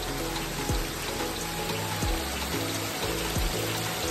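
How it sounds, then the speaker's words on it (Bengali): Small streams of warm spring water trickle and splash over rocks at El Manto natural water park in Mexico, a steady close wash of flowing water with scattered drip-like accents and no voices. "ঝর্ণার জল"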